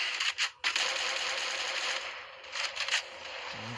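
Gunfire in a battle royale mobile game, with rapid automatic bursts rattling in close bright clusters, a short pause, then more bursts, with no voice over it.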